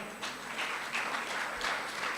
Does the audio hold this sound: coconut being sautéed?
no